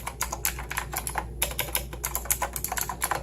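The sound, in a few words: typing on Razer BlackWidow clicky mechanical keyboard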